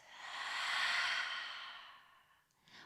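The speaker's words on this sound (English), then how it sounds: "A full breath out." A slow, full breath out through the mouth, soft and close, swelling and then fading over a couple of seconds, followed by a faint short breath.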